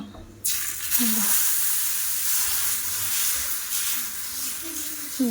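Batter poured onto an oiled tawa, dosa-style, sets off a sudden loud hiss that settles into a steady, strong sizzle, with a few faint snippets of voice underneath.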